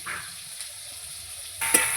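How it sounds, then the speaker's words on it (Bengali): Green banana (plantain) frying in oil, a low continuous sizzle with a brief louder stir or scrape near the end, close and alone without any voices. "কাঁচকলাটা আমার ভাজা হয়ে গেছে এবার তুলে নেব"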